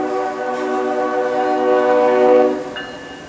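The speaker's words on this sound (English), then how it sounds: "Hear that? That train whistle?" A loud, sustained train whistle blares steadily for a few seconds, a rich harmonic tone that swells slightly before cutting off, with no talking.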